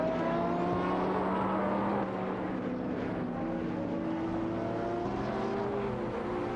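Simulated race car engines in a racing video game, a Maserati MC12 among the cars battling for position, with sustained overlapping engine drones and shifting pitch that run continuously without talk.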